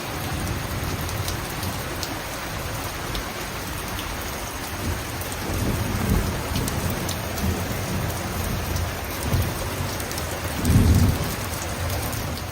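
Heavy monsoon downpour during a storm, a dense, continuous hiss of rain pounding surfaces close by, with low rumbles of distant thunder swelling now and then, no voices.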